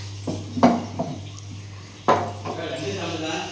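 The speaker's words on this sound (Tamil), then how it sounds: "வெங்காயம் தக்காளி பூண்டு இஞ்சி இடிக்கிறேன்" Garlic and ginger are pounded for a catla fish curry, giving a few sharp, separate knocks spaced out over a quiet background with a low hum.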